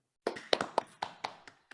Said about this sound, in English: give a thunderous round of applause for Toastmaster Adil